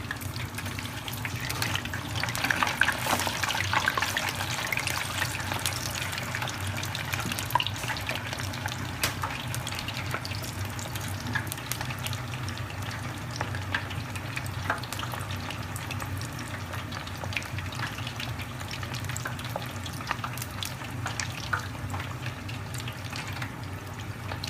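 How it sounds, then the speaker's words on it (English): Chicken pieces for Chinese honey chicken fry in hot oil with a steady, dense sizzle and crackle that runs continuously at moderate loudness, with occasional small pops and no talking. "Let them fry for about a minute and then we'll take them out."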